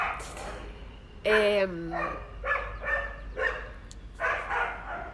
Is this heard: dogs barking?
yes